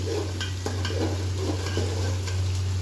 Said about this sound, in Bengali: आदा बाटाटा दिए भालो करे একটু কষে নেবেন।